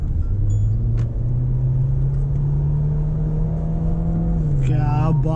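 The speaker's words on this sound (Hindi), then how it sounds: "थ्रोटी आवाज है इंजन की इतनी प्यारी it's like a sports car आवाज आ रही है इसकी" A Mahindra Scorpio N petrol engine revs nearby with a steady rising drone under the cabin, settling and then climbing again near the end while someone speaks faintly over it.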